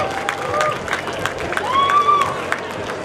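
A hall crowd claps and cheers for graduates at the 8th convocation of the Inoli Byaris educational institution, a dense patter of applause with scattered whistles and shouts rising midway, over a murmur of voices.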